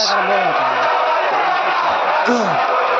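A large crowd at a live music event cheers and shouts with rising bellows and whoops, a loud, continuous wall of voices throughout.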